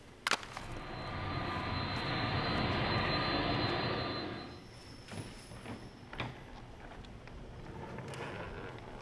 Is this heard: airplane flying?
yes